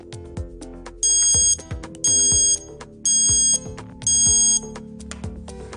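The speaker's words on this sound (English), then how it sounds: "It's preset to ring as soon as you unplug your device." A Charger Leash charger alarm rings after the device is unplugged, four loud bursts of bright electronic ringing at a steady one-per-second rhythm over a background of plucked music, with no voices.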